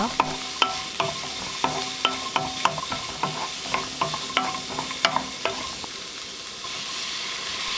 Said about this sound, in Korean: 식용유 2스푼, 당근 넣어 볶아주세요. (30초) 볶고 양파 넣어주세요.